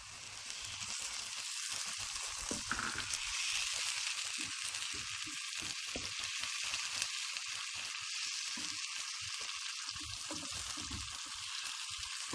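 Ginger garlic paste fries in hot oil for karahi gosht, a close, continuous bright sizzle and hiss with faint stirring scrapes underneath, steady throughout without speech.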